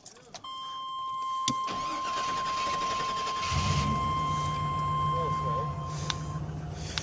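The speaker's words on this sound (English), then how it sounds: "here's what would be a cold start of it" A cheap old pickup truck with a rusty body cold starts with a short cranking burst, then settles into a low rumbling idle at moderate distance, with a faint steady tone and clicks around it.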